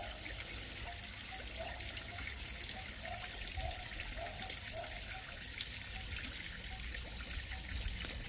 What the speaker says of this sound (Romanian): teței trebuie înmuiați cu apă fiartă.